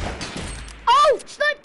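Sniper rifle gunshot in an online shooter video game played in duos, a sharp single crack heard under loud excited talking from players.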